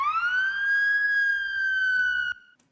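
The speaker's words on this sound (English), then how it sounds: "And we can do our siren." A synthesized siren sound effect for a dubstep track rises in a single sustained upward sweep, bright and clean, then cuts off abruptly.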